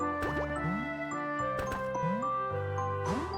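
Video game character from Re:Fresh falling into water, with a bright sequence of drippy, bubbly splash tones and rising watery sweeps repeating three times over steady game music, no talking.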